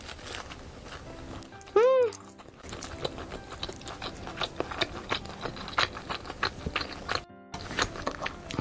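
Close-up crunching while eating a thin-battered, very crispy fried rice cake skewer, with repeated sharp crackly bites and chews; a brief squeak sounds early on.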